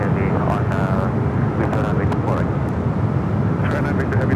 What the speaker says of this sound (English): Got the big kid, the A350-1000, the flight coveted from Doha. We'll be arriving here on the north side.